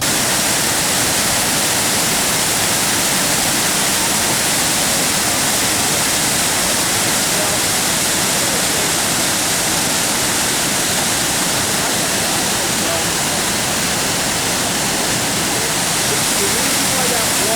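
Natural falls pouring brown, sandy water, a dense steady roar of rushing water filling the whole clip without pause, broad and hissing, with faint talk now and then beneath it.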